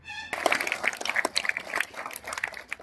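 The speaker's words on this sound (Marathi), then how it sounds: "जोरात टाळ्या झाल्या पाहिजे." Students clapping loudly after a short tone, a burst of dense applause from a gathering that carries on with uneven swells for a few seconds, close and lively.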